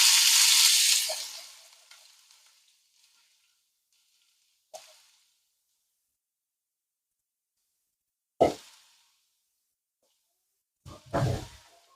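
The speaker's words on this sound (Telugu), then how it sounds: "ఆయిల్ వేడెక్కింది. సో ఇందులో అయితే నేను ఇప్పుడు చాప్ చేసుకున్న ఆనియన్స్ వేసేస్తున్నాను." Chopped onions hit hot oil for a marinara pasta sauce, giving a loud burst of sizzling that fades over a couple of seconds, followed by quiet pauses and a few short clatters of stirring.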